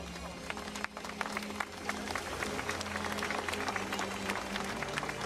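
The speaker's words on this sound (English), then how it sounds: "Let's give them a big round of applause." Crowd applause at a BMX racing world championship finals ceremony, scattered hand claps crackling over a steady background hum, fairly faint and distant in a large outdoor venue.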